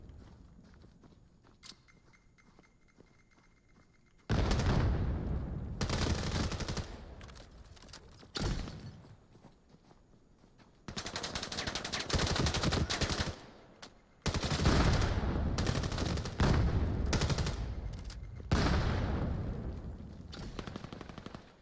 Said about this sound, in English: that gets picked apart there by shots from Alta, who cleans things up